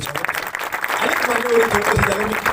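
Crowd claps loudly and continuously at a prize distribution ceremony for a Mathadi workers' premier league, with a voice talking over the applause throughout.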